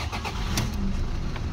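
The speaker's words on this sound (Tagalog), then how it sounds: "Engine start." A Toyota Hilux with a 2KD diesel engine starting up, a brief cranking burst followed by the engine catching and running at a steady medium rumble, heard fairly close.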